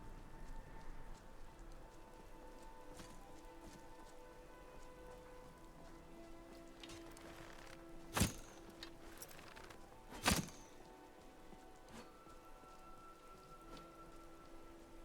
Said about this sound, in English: Oh, raining.